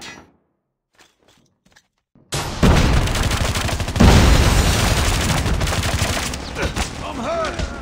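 Call of Duty Mobile ranked-match combat: a frag grenade blast erupts after a quiet stretch, followed by a dense, sustained roar of rapid gunfire close up, with a brief voice near the start.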